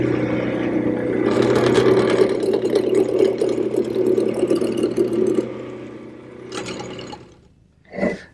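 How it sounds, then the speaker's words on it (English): A wood lathe spins a small blank being turned into chair stretchers, a steady loud motor whir with the gouge's rough cutting noise over it for about five seconds, then it winds down into quieter bursts and a short final scrape. "So I've mounted a smaller blank in the lathe"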